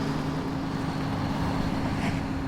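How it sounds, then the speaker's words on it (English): A truck engine idles steadily in The Walking Dead video game, a constant low droning hum with a faint tonal whine that holds without change throughout, with no talking. "I'm not about to turn the engine off again."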